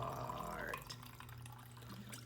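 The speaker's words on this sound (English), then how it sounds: "nice American-sized pour" Liquid pours into a glass in a short trickling stream, close and fairly quiet, then stops.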